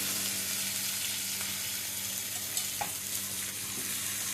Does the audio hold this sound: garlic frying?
yes